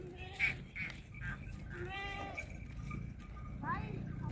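Goats and sheep bleat in a rural Kutch setting: several short, nasal calls spaced across the moment, fairly close, with a steady background murmur and people talking nearby.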